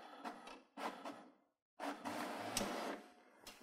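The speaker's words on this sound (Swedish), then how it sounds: "Då skrivs det ut ett dokument." An office printer running a Google Cloud Print job gives whirring, clacking feed bursts, then a short pause before a longer stretch of mechanical printing and paper movement, heard close.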